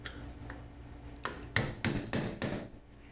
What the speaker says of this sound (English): Grab this adjustable hammer here.